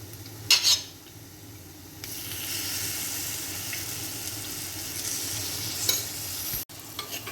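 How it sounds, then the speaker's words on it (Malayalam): Cooked pork stirred into frying masala in a pan, steady sizzling with spoon scrapes and clinks, a sharp knock near the start, close and continuous with no talk. "നമ്മൾ വേവിച്ച് വെച്ചിട്ടുള്ള പോർക്ക് ഇതിലിട്ട് കൊടുത്ത് നന്നായി ഇളക്കി യോജിപ്പിച്ച്"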